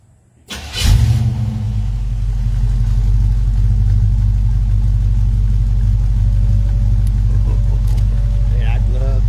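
A 1941 Ford truck engine starts with a sharp catch and then settles into a loud, steady low rumble that idles close by for several seconds.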